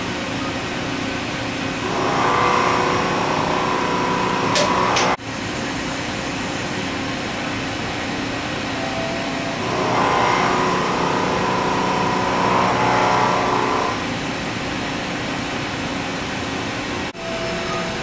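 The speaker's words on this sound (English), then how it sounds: "So here we drive the y-axis here, and it's the parallelism between the spindle and the table driving in y direction." A DMC125FD machining center drives its spindle head along the y-axis during a parallelism check against the table, giving a steady mechanical motor hum that swells louder twice as the axis travels, with no talk.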